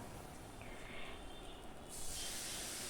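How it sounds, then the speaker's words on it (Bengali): Water used to rinse a mixer jar is poured into a hot cooking pan for a vegetarian paneer dish, a faint hiss rising into a sudden, steady steamy sizzle that carries through to the end, with no one speaking. "মিক্সি ধুয়ে জল দিয়ে দিলাম"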